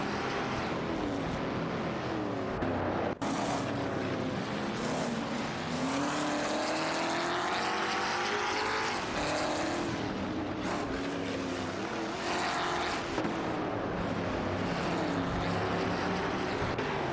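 Race cars, including a Chevrolet Chevelle SS70, driving a track in an AI racing video game, with steady loud engine drones and rising and falling revs as cars pass, continuous throughout.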